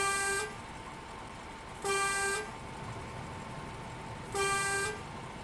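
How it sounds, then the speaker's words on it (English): A truck horn in the SnowRunner video game sounds three loud, even blasts, each about half a second long and roughly two and a half seconds apart, over a low engine rumble. "Okay, the horn's not bad."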